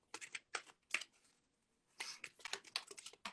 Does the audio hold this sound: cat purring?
no